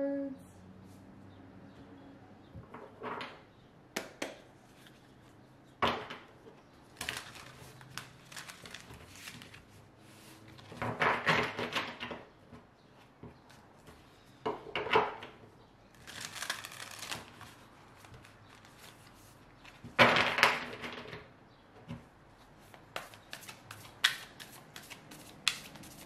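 Tarot cards being shuffled by hand, close up, in repeated bursts of riffling and slapping separated by quieter pauses with faint handling noise.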